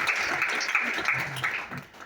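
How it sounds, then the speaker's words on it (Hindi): An audience applauds at a business seminar, a brief burst of scattered clapping at moderate distance that fades toward the end. "ताली बजाओ सर के लिए"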